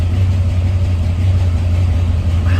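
A car engine idles abnormally low at around 600 to 650 RPM, giving a steady, loud, close low-pitched drone with an even throb and no revving throughout.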